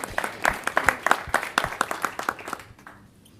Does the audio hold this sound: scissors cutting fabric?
no